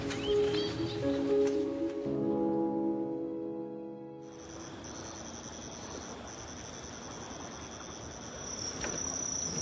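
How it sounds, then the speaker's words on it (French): Crickets in a closed terrarium biosphere chirp in a steady, continuous high trill that fills the background, starting after a brief stretch of other low tonal sound and continuing evenly to the end. "Les grillons, ils commencent à vraiment"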